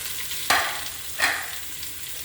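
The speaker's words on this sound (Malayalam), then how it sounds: "ഈ ഉള്ളി നന്നായിട്ടൊന്ന് വേവിച്ച് നന്നായിട്ടൊന്ന് വാടി വരുന്നവരെ ഇളക്കി കൊടുക്കണം" Chopped onions fry in oil in a pressure cooker for biryani, a steady close sizzle broken by two sharper scraping bursts as a spoon stirs them.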